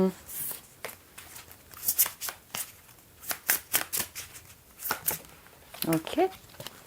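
Playing cards shuffled and riffled in repeated bursts of crisp papery rattles, close and clear, with a voice speaking briefly near the end.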